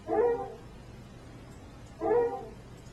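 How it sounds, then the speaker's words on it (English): Two short bursts of a hound dog baying, about two seconds apart, played through a computer speaker at moderate level with no talking over them. "I hear a hound dog."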